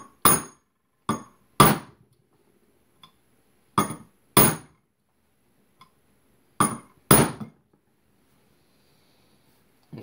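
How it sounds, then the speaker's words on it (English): A 3-pound drilling hammer taps on a steel pin in an AR15 front sight base, with sharp metallic strikes in irregular pairs and singles separated by silence, loud and close. "I'm going to see if that might give a little bit of extra energy with this light tapping."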